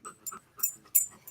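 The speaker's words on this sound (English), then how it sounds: "Hey, doggy." A dog pants in short, quick bursts of breath, about five gasps in just over a second, close by and moderately loud with no talking over it.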